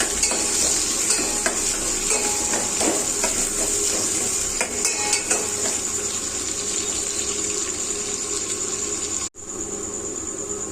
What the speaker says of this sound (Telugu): 1 స్పూన్ ఆయిల్, 1/2 స్పూన్ జీలకర్ర, 1/2 స్పూన్ ఆవాలు, 1 ఉల్లిగడ్డ సన్నంగా కోసుకొని ఇలా వేసుకోవాలి